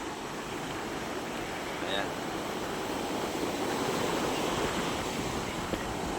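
Big ocean waves wash against the shore at a seafood fish terminal in Tanza, Cavite, a steady broadband roar of surf with wind noise throughout, and a brief voice over it.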